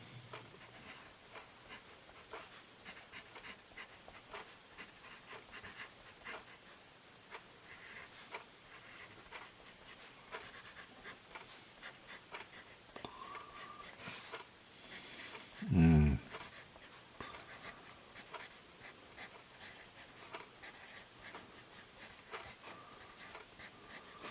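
Steady scratchy strokes of a Generals Semi Hex 3B drawing pencil across paper, close and continuous, with one brief louder knock partway through and no talk.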